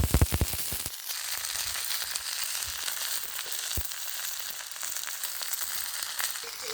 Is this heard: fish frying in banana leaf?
yes